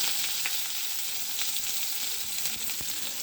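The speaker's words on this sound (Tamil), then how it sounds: "எண்ணெய் ஊற்றி கடுகு போட்டிருக்கேன். கடுகு பொரியுது." Mustard seeds splutter in hot oil in a kadai, a continuous close sizzle with scattered sharp pops and crackles.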